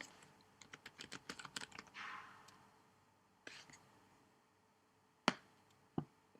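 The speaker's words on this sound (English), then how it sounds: "Type in something." Quick bursts of keystrokes on a computer keyboard at close range, followed by a quieter pause and a couple of isolated sharp key taps, with faint whispery talk over the start.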